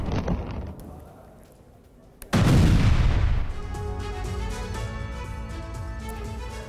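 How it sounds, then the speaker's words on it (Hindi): A sudden loud blast of a Neptune missile striking a weapons depot, with a deep rumbling roar, after quiet crackling, followed by a sustained roar of fire or debris. "यूक्रेन ने नेपच्यून मिसाइल से विस्फोट किया है।"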